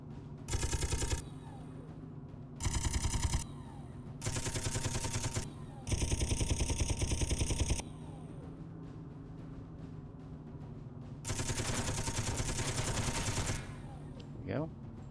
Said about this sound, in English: Go for a firing run.